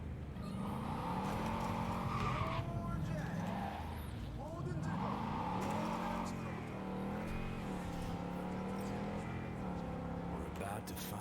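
An armored Delamain car drives hard in Cyberpunk 2077, engine droning steadily while tires squeal and skid through turns, all under continuous talking throughout.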